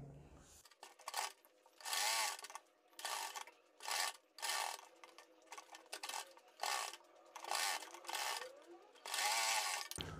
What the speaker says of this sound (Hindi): आप कन्नी की सिलाई मारकर कपड़े को नीचे वाले को अटैच कर दें